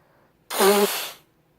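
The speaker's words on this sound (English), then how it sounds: "I sneezed." A single short sneeze bursts out close by, sharp and breathy, then quickly fades to quiet.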